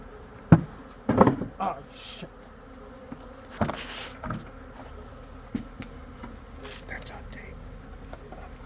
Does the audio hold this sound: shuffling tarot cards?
no